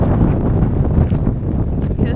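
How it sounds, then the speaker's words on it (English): Strong gale-force wind buffets the microphone on the coast at Balneario El Cóndor, Argentina, a loud continuous roar with gusty low rumble throughout. "Today is a super windy day."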